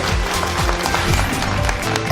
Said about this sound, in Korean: 송호정 교수님을 여러분 뜨거운 박수로 맞아주시길 바랍니다